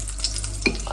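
Rice frying in ghee in a pan, a steady low sizzle broken by a couple of quick stirring scrapes, close and fairly loud.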